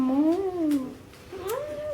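A pet cat gives two drawn-out meows indoors, close and clear, the first rising and falling over about a second, the second starting after a short pause.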